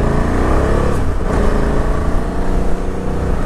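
KTM 990 SMT motorcycle ridden at night through city streets, a loud continuous engine drone with a small dip in pitch and a slight rise near the end, dominated by heavy wind rumble, no talking.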